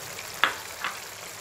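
Brinjal kulambu with grated coconut simmers in a pot with a steady soft hiss, broken by two quick scraping stirs of a spoon.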